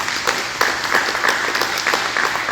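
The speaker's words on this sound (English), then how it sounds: "let's give Jack a round of applause." A round of applause from the audience at a Deer Park veterans memorial service, a steady wash of many hands clapping with a few sharper claps standing out, fairly close and continuous throughout.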